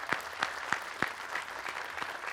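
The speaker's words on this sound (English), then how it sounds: "let's give him another round of applause" Audience applauding the mayor at a city's State of the City event: a fairly quiet, sparse patter of claps with a few distinct louder hand claps standing out, steady throughout without talk.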